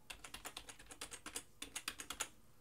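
Someone types a password on a computer keyboard in two quick runs of soft, close keystrokes with a short pause between them. The sound is quiet and there is no talk.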